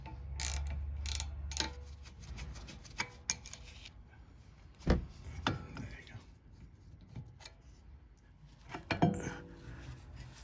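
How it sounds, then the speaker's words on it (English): Vice grip working loose a stripped bolt on the rear differential of a Lincoln MKX / Ford Edge AWD, giving close metallic clanks, ratcheting clicks and scraping taps in irregular bursts with a hum early on and pauses between. "So we're just going to use a vice grip to loosen it up."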